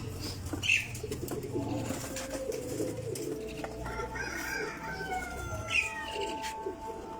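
Teddy pigeons cooing and fluttering close by, with low rumbling coos running through the clip and a couple of sharper calls standing out, against a busy background of loft noise.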